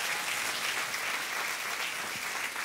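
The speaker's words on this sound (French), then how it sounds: "Est-ce qu'on peut les applaudir encore bien fort?" A church audience gives warm applause after a set of songs, dense, even clapping that fills the room steadily from start to finish with no one speaking.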